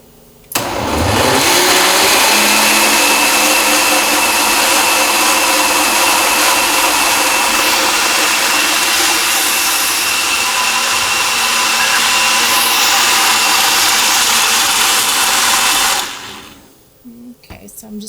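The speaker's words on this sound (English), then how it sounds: "we are going to blend until smooth" A food processor or blender whirs loudly and steadily while blending ingredients until smooth, starting abruptly and running for about fifteen seconds before cutting off.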